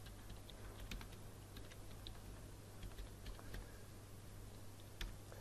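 Quiet keystrokes on a computer keyboard as a table name is entered, faint scattered clicks over a steady background hum.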